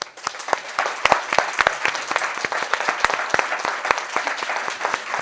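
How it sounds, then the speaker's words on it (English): A room of guests at a Black History Month presentation event gives a round of applause for the helpers, dense overlapping claps, fairly close and steady, with a faint murmur of voices underneath. "so that you can also get a round of applause"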